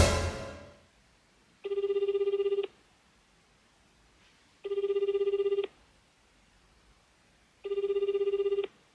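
Three evenly spaced electronic telephone ring bursts, each about a second long with gaps between, heard as the ringback of an outgoing call, clear and alone in a quiet room.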